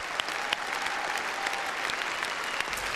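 Applause fills a conference hall as a speaker takes the stage, a dense, steady clapping from a large crowd that holds at an even level throughout, with no talk over it.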